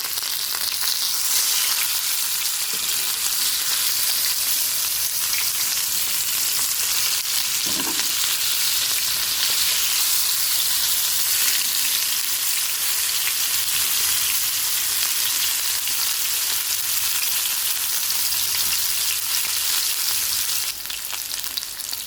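Salmon fillets and vegetables pan-frying in a hot pan, giving a steady, loud, continuous sizzle throughout with a brief stir or shift partway through, no voices.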